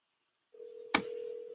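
A telephone is dialed to call back a sales lead: after a short silence a steady tone begins, a single sharp click lands partway through, and the tone continues to the end.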